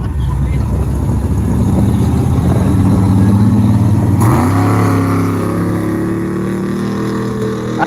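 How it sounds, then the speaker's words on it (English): A truck churns through a watery mud pond with a loud, close engine roar that revs up sharply about halfway through, its pitch climbing and holding. "this was when it was watery and it hadn't been mixed to mud yet, but still shows what the truck can do."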